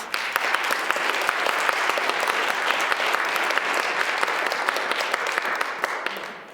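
A congregation at a spiritual center applauds to welcome a new member, a sustained, even wash of many hands clapping, fairly loud and continuous, tapering slightly at the close.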